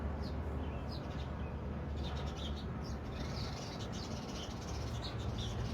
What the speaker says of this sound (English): And the birds agree.